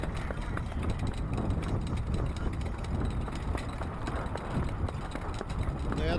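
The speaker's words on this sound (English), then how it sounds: "DW's New York Yank must stay trotting" Harness racing trotters pull sulkies behind a mobile starting gate, their hooves a rapid, continuous drumming mixed with wheel and track rumble, heard close and loud.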